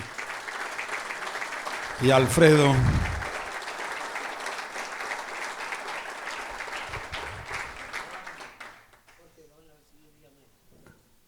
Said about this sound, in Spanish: Les damos un fuerte aplauso a Hugo